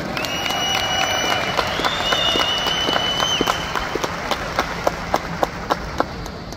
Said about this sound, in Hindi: इन सभी 1800 अचीवर्स के लिए एक जोरदार राउंड ऑफ तालियां हो जाए